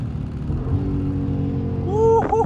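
A Dodge 392 Scat Pack accelerates with a deep engine rumble that builds and grows louder toward the end, and a voice briefly whoops over it.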